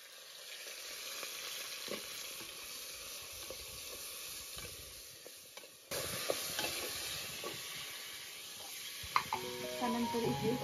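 Drumsticks go into a sizzling tempering of cumin, mustard seeds and turmeric, giving steady close frying crackle with scattered pops and spoon stirring, growing louder partway through.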